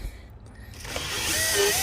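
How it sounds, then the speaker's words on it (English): A power drill works on the radiator support bolts of a Dodge Ram EcoDiesel, its whirring noise swelling up from a quieter start and holding steady and close for the last second. "if you stick your drill through the bottom"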